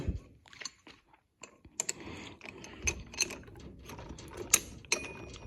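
A drill chuck on an angle gearbox is turned by hand, giving ratcheting mechanical clicks and rattling metal gear noises in irregular bursts, close and fairly loud.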